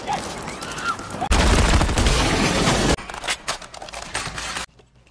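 Armed troops open fire in an action scene from the 2024 live-action City Hunter film, with a loud, dense burst of rapid automatic gunfire, then scattered shots and impacts that thin out before a sudden drop to near quiet.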